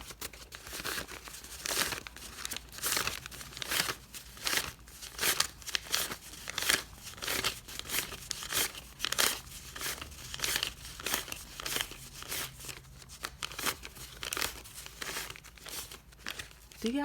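Paper cash bills are handled and crinkled close up, producing continuous rustling and crisp crackles with rhythmic bursts throughout.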